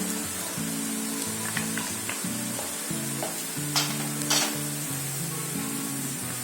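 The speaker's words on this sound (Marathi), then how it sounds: "थोडंसं फ्राय झाली ना की आपल्याला त्याच्यामध्ये अद्रक टाकायचं. आता मी अद्रक टाकते." Ginger sizzles and crackles steadily in hot oil in a pan while a pickle is made, with occasional stirring clinks over the continuous frying hiss and no talk.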